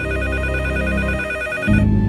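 A telephone rings with a steady electronic warble that holds for over a second and a half before cutting off, loud and close, followed by a low hum, with no talking.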